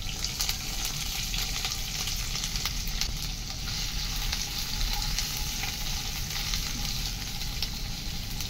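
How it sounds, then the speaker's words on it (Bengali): Chopped onion sizzles steadily in hot oil in a pan, a continuous, even frying hiss that stays close and unbroken throughout with no voices. "অল্প পরিমাণে একটু পেঁয়াজ দিয়ে দিচ্ছি"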